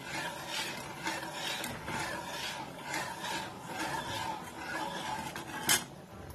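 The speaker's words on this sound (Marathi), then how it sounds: "आता हे दूध चांगलं हलवायचं. चांगलं याला उकळी उकळून हलवायचं." A utensil scrapes and clinks against a metal pot of boiling milk in a slow, repeated stirring rhythm, fairly quiet, with one sharper clank near the end.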